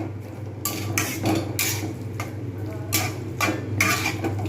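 Eggplant bharta with green chillies and coriander leaves being stirred in a pan: a series of scraping, clinking utensil strokes in irregular bursts over a steady low hum, close and moderately loud, with no talking.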